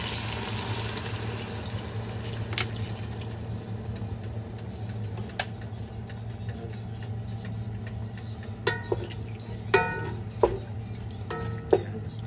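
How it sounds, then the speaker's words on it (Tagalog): Tap water running into a cooking pot of beef for ampalaya, a steady low pouring rush with occasional clinks and taps from the pot and utensils, close and continuous. "Lagyan natin tubig para lumambot yung karne."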